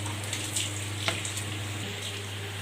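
Jaggery syrup bubbles in a large pot, a soft, steady hiss and seethe with faint pops, low and even throughout with no voices.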